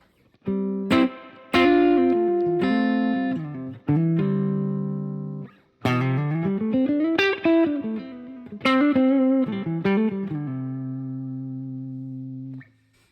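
Electric guitar played through a spring reverb selected on a Morningstar MC6 controller, sounding as several strummed chords and short melodic phrases with a splashy, ringing tail that decays between bursts, loud and alone.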